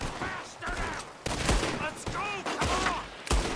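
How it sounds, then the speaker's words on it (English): Gunfire during a gunfight in Red Dead Redemption 2, several loud sharp shots spaced across the moment amid ricochet whines and game effects, with a voice talking underneath. "let me get out of this gunfight."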